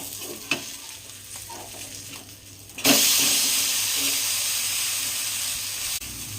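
Fresh pond-caught bata fish coated in masala sizzles in a pan, a soft crackle at first that bursts into a loud, steady hiss of frying oil that continues until a brief drop near the end.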